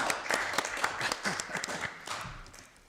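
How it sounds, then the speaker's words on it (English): A council scrutiny committee gives a retiring officer a round of applause, brisk dense clapping from a small group in a meeting room that fades out toward the end. "Clap."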